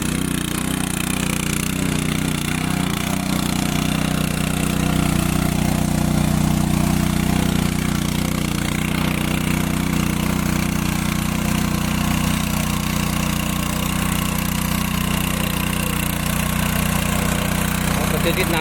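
Steady, loud tractor engine hum from a tractor ploughing the first monsoon furrows in a Konkan field, droning without a break for the whole stretch, a little rougher in the middle.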